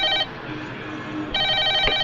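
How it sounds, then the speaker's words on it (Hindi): A telephone bell rings in two loud bursts, separated by a brief quiet gap, with a faint thump near the end of the second ring. "शुभ मुहूर्त पर शुभ घंटी बजी है।"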